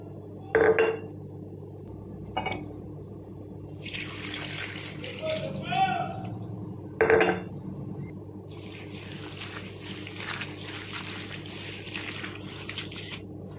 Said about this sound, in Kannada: ಇವಾಗ ನೀರು ಹಾಕಿ ತೊಳ್ಕೊಂಬಿಡೋಣ.